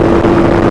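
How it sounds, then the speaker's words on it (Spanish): Loud, close engine note of a Vento GT250 motorcycle, a 250 cc bike ridden at full throttle around 95 km/h, a brief steady buzzing tone with wind rush underneath. "95 kilómetros por hora full speed, full gas, en una motocicleta 250"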